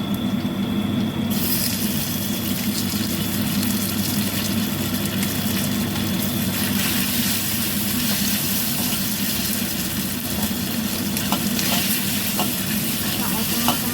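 Chicken pieces frying in a pan with garlic, sizzling steadily and loudly while being stirred, with soft scraping and clinking of the utensil throughout.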